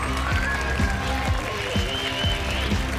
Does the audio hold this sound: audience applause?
yes